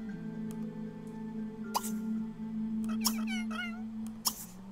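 A cat in The Sims 3 video game meows a few times, short rising and falling cries over a faint, steady background hum, with no talk.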